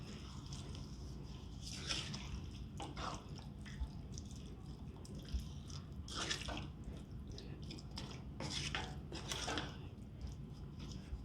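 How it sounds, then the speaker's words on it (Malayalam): Hot water goes into tapioca for kappa puzhukku and is mixed in, giving faint wet squelching and soft drips under a steady low background hum, with no talking. "നമ്മൾക്കിനി ഇതിലേക്ക് ആവശ്യത്തിന് ചൂടുവെള്ളം ഒഴിച്ചു കൊടുക്കാം"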